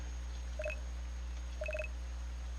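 Electronic phone dialing tones from a Korean RPG Maker game, two short bursts of beeping keypad tones, the second a quick run of three or four, over a steady low background hum.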